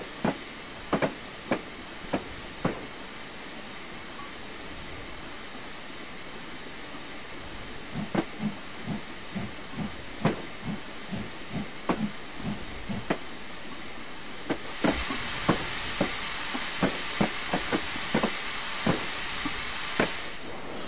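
LMS Class 8F steam locomotive on the Border Lines route in Train Simulator 2016, giving off a steady hiss of steam threaded with rhythmic clanks and chuffs; the hiss swells noticeably louder toward the end.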